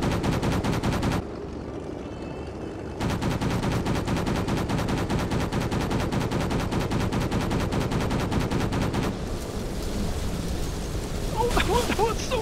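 Rapid machine gun fire from aircraft in World of Warplanes, a dense, continuous rattle of shots running almost the whole time with a brief pause, loud and close over engine roar, with a voice talking over it.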